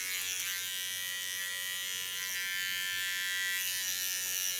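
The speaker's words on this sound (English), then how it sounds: "Here's the tip of my clipper. Make a nice circle around her ears." An electric hair clipper runs continuously with a steady high-pitched buzz as it trims short pixie-cut hair around the ears, close and constant with no speech.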